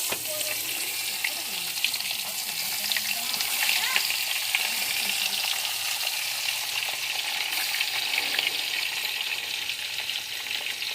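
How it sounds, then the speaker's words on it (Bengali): Turmeric and salt rubbed fish fries in a wok with a steady, dense sizzle and spatter running throughout, close and fairly loud, with no voices. "মাছটা ভালো করে হলুদ নুন মেখে নিলাম। এবার মাছটা ছেড়ে দেব কড়াইয়ে।"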